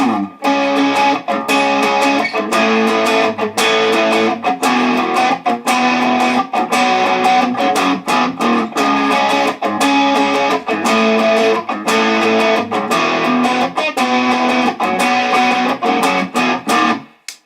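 A dense, driven electric guitar riff with gritty distortion, played continuously with rhythmic chugging attacks and no voices.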